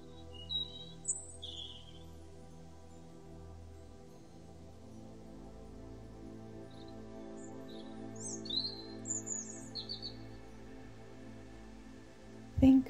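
Robin song in the early morning: faint, scattered chirps and short trills in a few bursts over a steady, soft musical drone.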